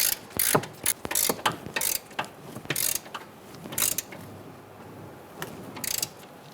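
A ratchet tightens the nut on a Chrysler 300 rear upper control arm bolt, with rapid loud clicking strokes in uneven bursts close by and no talk.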